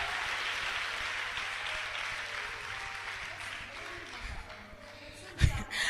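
A church congregation in Rwanda breaks into sustained applause, a dense roomful of clapping that slowly fades, ending with a sharp knock near the close.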